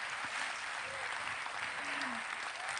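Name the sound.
applause for the guests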